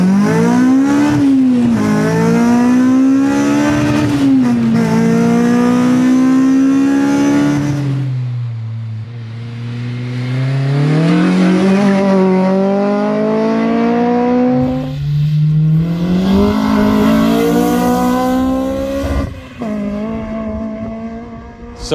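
A naturally aspirated Honda Civic EP3 with a K20 engine, built to 282 bhp, revs hard while driving, climbing and falling through the rev range with loud, sustained tones that rise steeply in pitch, alone and close.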